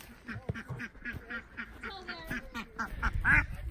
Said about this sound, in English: leave the ducks alone, buddy